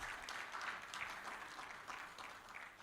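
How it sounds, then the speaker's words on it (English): Audience applauding a manager introduced at a live-streamed panel event, a steady, fairly faint wash of many hands clapping that holds for a few seconds. "A round of applause for him"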